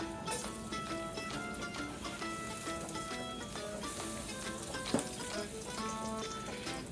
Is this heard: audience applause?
no